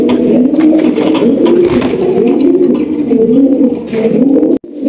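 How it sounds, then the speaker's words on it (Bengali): A pair of large lakha pigeons coos in a soft, continuous warbling close by, with repeated throaty phrases and no talking. "দর্শক, এখানে রয়েছে একজোড়া লাখা কবুতর"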